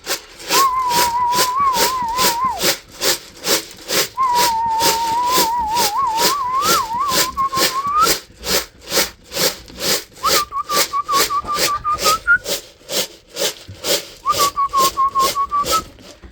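A person whistles repeatedly to call animals at feeding time, loud close melodic whistled phrases with pauses, over a steady rhythmic hissing or pulsing background noise.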